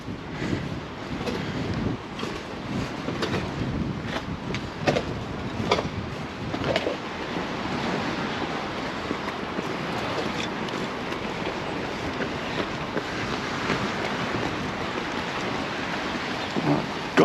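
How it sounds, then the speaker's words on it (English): Gusty wind by the sea at Portixol, Mallorca, buffets a built-in microphone in a steady, broad rushing roar with occasional stronger bursts, lasting throughout with no talking. "Gust of wind has come and gone."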